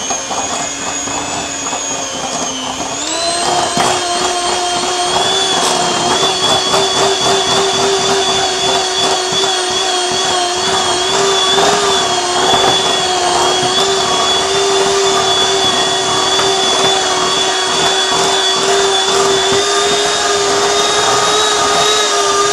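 Electric hand mixer beating Bakewell cake batter of softened butter and vanilla, a loud steady motor whir that shifts pitch as it speeds up, then runs continuously with rattling under no talk.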